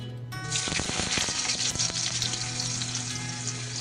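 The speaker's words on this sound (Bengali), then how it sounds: "এবার আমি আলুটা একটু লালচে করে ভেজে নিচ্ছি।" Small diced potato hitting hot oil for a prawn bati chorchori, a sudden loud sizzle that bursts in with crackling stir strokes and then settles into a steady fry.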